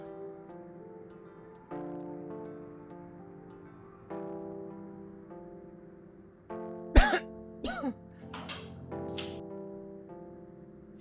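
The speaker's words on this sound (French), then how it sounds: "Oui, j'étais en train de tousser." A woman coughs in a short burst of harsh, close coughs and throat-clearing. Before it a faint intermittent tonal hum sounds, and there is no talking.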